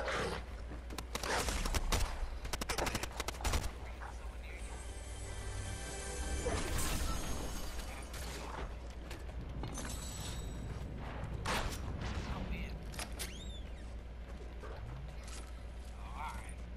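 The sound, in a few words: gunfire in Fortnite video game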